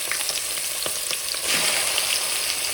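Mutton pieces drop into hot rendered mutton fat and oil for a gravy, giving a steady loud sizzle with crackling pops, swelling brighter midway as the meat spreads in the pan.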